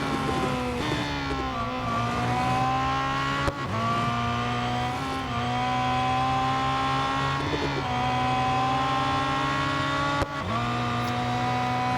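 GT race car engines from the Real Racing 3 mobile game, endurance GT racing at Circuit de Catalunya, roaring steadily with gear-shift dips and rising revs, loud and continuous throughout with no talk.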